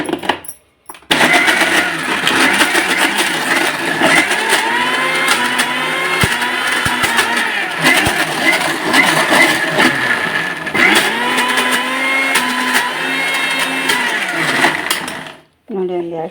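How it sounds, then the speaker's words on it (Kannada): A kitchen mixer grinder runs continuously, grinding chana dal into a smooth paste for a Karnataka sweet filling, a loud steady whirring motor drone lasting about fifteen seconds before cutting off. "ಇನ್ನು ಮಿಕ್ಸಿ ಮಾಡ್ಕೊಂಡು"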